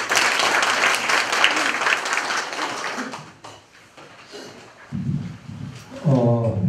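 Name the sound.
audience applause welcoming a speaker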